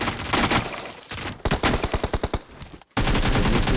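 A P90 submachine gun fired in PUBG, loud rapid automatic bursts with a fast, evenly spaced string of shots in the middle, set against dense surrounding game noise.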